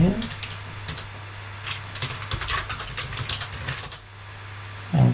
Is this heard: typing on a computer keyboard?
yes